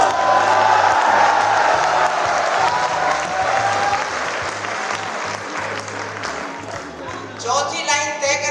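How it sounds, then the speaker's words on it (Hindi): A large crowd at an all-night Hindi poetry gathering applauds a poet with dense, steady clapping and scattered cheers. The sound is loud and sustained and close, thinning slightly toward the end as a voice rises over it. "मेरी बात अच्छी लगे तो तालियां सुनना चाहता हूं"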